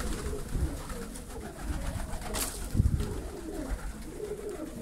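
Pigeons coo softly inside a pigeon loft on a rainy day, low murmuring calls that rise and fall over quiet background noise, with no talking.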